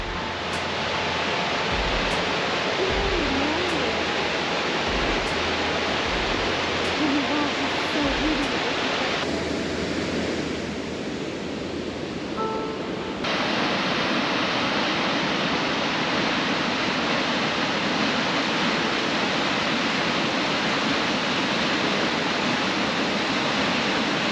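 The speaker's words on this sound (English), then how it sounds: "Surprise waterfall." A steady, full roar of rushing water from a waterfall in Gifford Pinchot National Forest fills the whole clip, with brief low thumps and faint voices early on.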